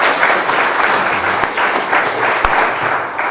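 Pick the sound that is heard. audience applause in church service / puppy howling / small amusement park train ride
audience applause in church service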